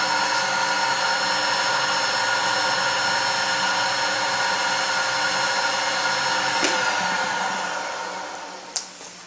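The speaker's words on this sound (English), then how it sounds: "I'm going to guess I had maybe a minute and a half of sanding" Sandpaper runs against turned wood spinning on a lathe, making a steady droning whir with a high hiss that eases off near the end, followed by a single sharp click.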